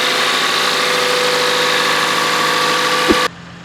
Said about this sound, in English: let's take a look on this cold start Toyota Camry